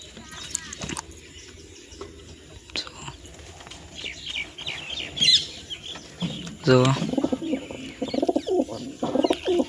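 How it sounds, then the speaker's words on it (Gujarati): Pigeons coo repeatedly nearby in low, throaty bursts, with other bird calls and occasional talking mixed in. "જો અહીંથી જે કબૂતરની જોડ નાખી છે"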